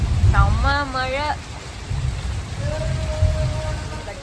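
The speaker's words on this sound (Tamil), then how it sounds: "செம்ம மழை." Heavy morning rain with thunder pours steadily in Chennai, with a voice calling out briefly near the start and a faint tone later.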